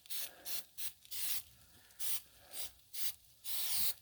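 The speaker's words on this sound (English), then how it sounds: "non-stick spray," All-purpose non-stick spray hissing from a can onto a Blackstone griddle in about eight short bursts of uneven length, close and clear, with no talking over it.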